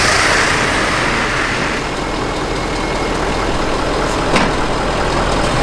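A Ford F450 Platinum dually truck with a wide track axle pulling out of a parking spot, a steady low engine rumble and broadband road noise, close and constant with a brief sharp click near the end.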